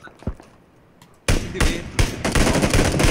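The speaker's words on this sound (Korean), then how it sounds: "저희 지금 W 방에서 총소리 났거든요." Gunfire in the battle-royale game PUBG (Battlegrounds): after a quieter stretch with one distant shot, a burst of loud, close rapid shots breaks out and keeps cracking repeatedly to the end.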